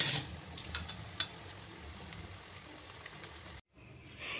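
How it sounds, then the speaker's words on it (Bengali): Vegetables frying in a pan and being stirred, a soft steady sizzle with a few light scrapes and clinks of a utensil, then a short silence before the sizzle returns. "ওখানে তো সবজিগুলো ভাজতে দিয়েই দিলাম"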